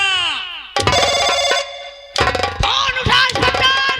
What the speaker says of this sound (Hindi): देख तेरे बाप का फोन आ रहा है